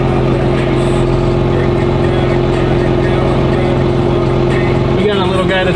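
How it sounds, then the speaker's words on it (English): A pickup truck engine idles steadily while warming up, a constant low loud rumble with a slight change in tone near the end. "We're gonna let her get warmed up, do a spool up test, and then go do a quick rip"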